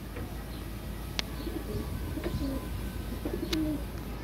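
Soft, low cooing from Teddy pigeons repeats a few times against a steady background hum, with a couple of sharp clicks between them.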